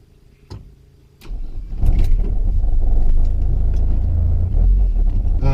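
A 1992 Ford Escort RS Cosworth cranks and fires up, then settles into a loud, rumbling idle as its turbocharged engine warms up close by.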